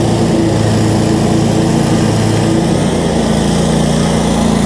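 A Kioti ZXS stand-on mower runs with its PTO engaged, its engine and spinning blades giving a loud, steady drone close by that holds throughout.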